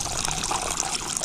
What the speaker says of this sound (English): this would be the overflow pipe from my main watering tank